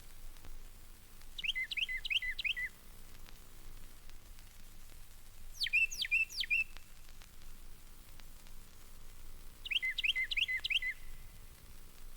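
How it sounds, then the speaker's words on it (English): A wren sings in three separate bursts of rapid, high trilling notes at Bok Tower Gardens bird sanctuary, moderately near, with quiet background hiss between phrases and no talking. "You'll hear more often than see this wren, though."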